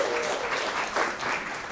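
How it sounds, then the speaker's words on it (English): An audience applauds the lender at a real estate talk, a dense and steady wash of clapping from many hands in a room. "let's give Israel a round of applause"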